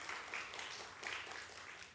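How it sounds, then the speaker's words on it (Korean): A church congregation claps for a newly married couple during Sunday service announcements, a dense, steady wash of applause from many hands filling the room, fairly faint and even throughout. "우리 감사하다고 박수하겠습니다."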